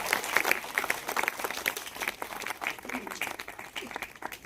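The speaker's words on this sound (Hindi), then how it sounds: "उनके तालियां जोर से बजाइए उनके लिए।" Audience applause at a ceremony honouring Urdu school students, a dense burst of many hands clapping at once, loud and sustained, with some voices mixed in.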